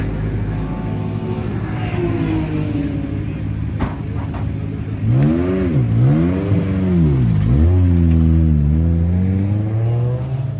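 A race car engine revs hard and climbs through gears as the car accelerates back onto the track during a night endurance race, pitch rising and dipping with each shift, loud and close.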